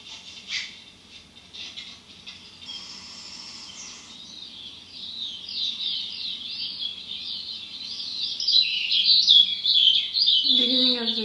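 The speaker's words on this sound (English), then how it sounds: "Beginning of the day, clearly with the birds who are beginning to sing in the sun." Birds sing at dawn in a Twilight Zone episode, with high chirps and warbling song that start faint and grow louder and busier, over a quiet background; a brief lower sound appears at the very end.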